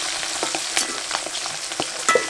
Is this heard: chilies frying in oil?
yes